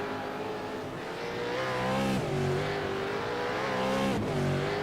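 Race cars at the Sandown Enduro Cup rev and accelerate along the track in a continuous loud engine drone, with pitch rising and dropping around gear changes and no voices.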